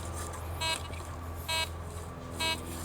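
Three short electronic beeps from a metal detector at a steady interval, about a second apart, over a low background hum, during outdoor metal detecting.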